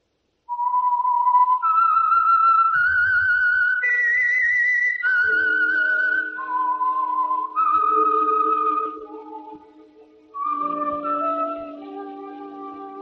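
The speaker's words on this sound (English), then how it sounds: "That whistle is your signal for the Signal Oil program, The Whistler." A clear, solo whistled melody runs as the theme signal of The Whistler radio program, with sustained rising and falling notes, a brief pause near the end, then a final phrase resolving low.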